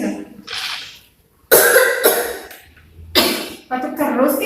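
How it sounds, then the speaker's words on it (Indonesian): A person coughs in several harsh bursts, with short pauses between them, close to the microphone. "Batuk terus nih."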